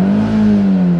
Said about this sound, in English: when you step on your gas pedal, it will open your throttle to let more air in your engine